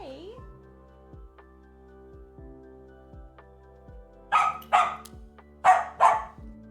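A pet dog indoors lets out four loud, sharp barks in quick pairs toward the end, after several seconds of quieter background sound.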